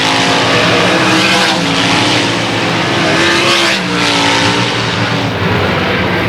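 Race cars roaring past on a track during a heat race, loud sustained engine wail with rising and falling passes, close and dominant, no talking.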